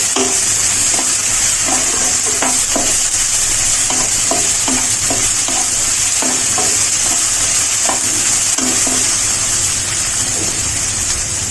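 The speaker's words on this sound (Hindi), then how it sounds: "बैगन को चलाते हुए इस तरह से भून लेंगे।" Steady sizzling of eggplant stir-frying in a pan, with repeated scraping and stirring clatters throughout, close and continuous with no voices.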